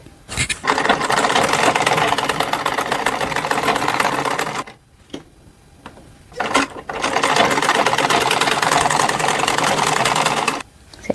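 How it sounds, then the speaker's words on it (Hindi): A sewing machine stitching fabric for Laddu Gopal clothes, running in two long fast bursts of rapid mechanical clatter, close and loud, separated by a brief pause with small clicks. "अब हम सबसे पहले इस पर चारों तरफ सिलाई लगाएंगे।"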